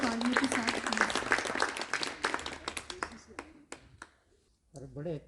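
A burst of audience applause and clapping at an Urdu poetry gathering, loud at first, then thinning out to a few scattered claps before a voice speaks.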